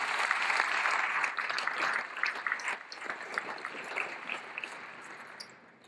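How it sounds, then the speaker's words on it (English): A banquet audience at a chamber of commerce annual dinner claps, starting as a full burst of applause and thinning into scattered individual claps that fade out toward the end. "Can we give all of them a round of applause, please?"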